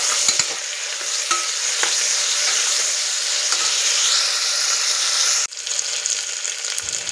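Chopped green chilies, tomato and onion pieces sizzle in hot oil while a spoon stirs them, with a steady close hiss broken by occasional scrapes and clinks against the pan.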